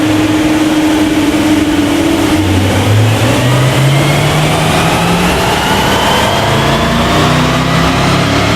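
A Jaguar F-Type's engine roars loudly and continuously on a dyno, revs climbing steadily through the gears without pause.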